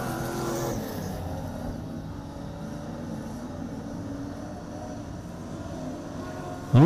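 Speedway race cars at Lismore Speedway lapping the track during an AMCA Nationals A-Main, a steady moderately loud engine drone with no talk over it.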